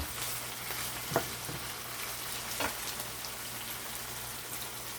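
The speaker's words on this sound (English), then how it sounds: "So everything is gonna saute right now" Tinned mackerel sautéing with carrot and plantain gives a steady, fairly faint sizzle, broken by a couple of soft utensil taps, with no talking.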